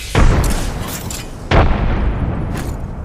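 Two heavy frag grenade blasts in Apex Legends, a booming explosion followed by another about a second and a half later, each trailing off into rumbling debris amid faint gunfire.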